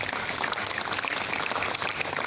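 An audience in a hall applauds an honoured guest at a Malaysian alumni talk event, a dense, even wash of many clapping hands, steady and moderately loud, with no speech over it.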